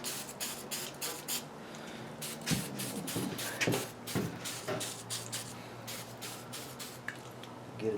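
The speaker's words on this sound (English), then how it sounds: "We're going to hit it with some carburetor cleaner just to get that out of there" Carburetor cleaner sprays onto a Jeep XJ Ruff Stuff anti-wrap bar in short hissing bursts, close and fairly quiet. Soft shuffling and a few small knocks come in between.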